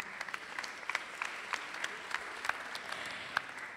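An audience at a conference workshop on business and civil society gives a round of applause, a steady wash of clapping with sharper individual claps standing out near the listener.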